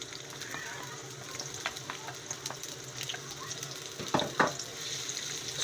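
Chopped red onion sizzles softly in a pan of oil for a chana masala, a steady gentle frying hiss with light scraping as it is stirred.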